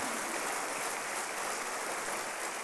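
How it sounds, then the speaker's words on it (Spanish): Church congregation applauding loudly and steadily, a dense continuous wash of clapping with no pauses and no voices standing out. "Dale un fuerte aplauso al Señor y dile gracias"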